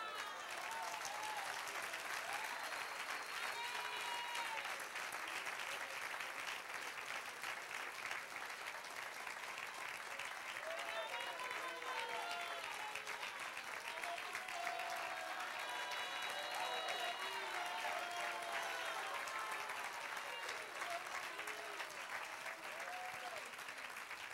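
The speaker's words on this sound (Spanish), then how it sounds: "Dale aplauso." A church congregation at a sermon applauds in a long, steady, even stretch of clapping, with faint voices and musical tones sounding underneath.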